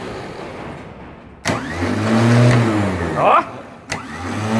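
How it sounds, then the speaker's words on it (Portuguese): A Toyota SW4 starter motor on a bench, powered from a test battery, spinning up in whirring bursts that rise and fall in pitch, loud and close, with a brief spoken exclamation over it. "O menino chinês acabou de montar o motor de partida. Agora ele vai testar."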